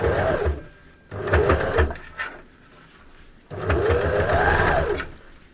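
Three separate runs of a sewing machine stitch a three-layer fabric face mask, each a close, fast whirring rattle divided by brief quiet pauses.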